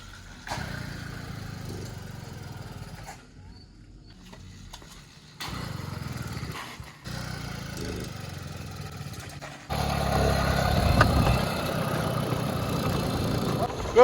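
A hundred-dollar motorized bicycle with a small add-on engine runs near the microphone, a steady buzzing drone that drops off for a few seconds, returns, and then swells louder toward the end as the throttle opens.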